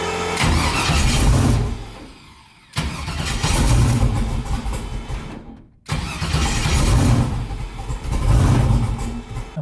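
A twin-turbo LS-swapped car engine with its idle air motor disconnected is cranked and started several times, loud rough roaring bursts broken by two short pauses, close to the engine.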